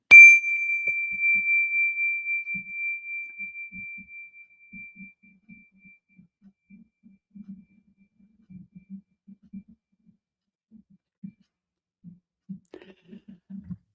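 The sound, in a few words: mindfulness bell ringing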